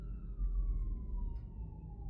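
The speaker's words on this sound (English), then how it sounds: "I don't know if you hear those sirens." Emergency vehicle sirens wail outside, a steady tone slowly falling in pitch, heard at a distance over low rumbling background noise.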